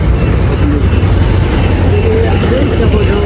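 Traffic moves along a busy road in Vadali, cars and motorbikes passing in a loud, continuous engine rumble and road noise, with voices talking over it.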